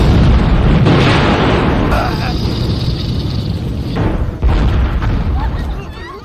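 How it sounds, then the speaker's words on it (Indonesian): A ship blowing up in a sea-monster film, heard as a loud, sustained roar of blast and rumbling debris that fills the whole stretch, with a second burst near the middle and a slow fade at the end. "kapal itu hancur bersama dengan Kinyu yang kemungkinan juga ikut tewas dalam ledakan tersebut"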